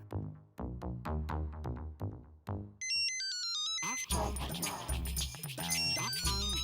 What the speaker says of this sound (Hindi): वैजंती का फोन